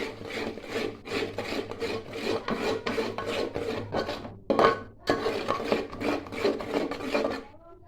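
Red chili masala with salt being mixed for a crab curry, a steady rhythmic rasping scrape of a spoon or spatula against the pan, repeated strokes throughout, close and clear, with no talk.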